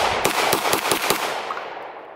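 Beretta 92 pistol firing with extraction malfunctions, loud close shots in an irregular burst of about five or six cracks, ending with a fading echo and no talk.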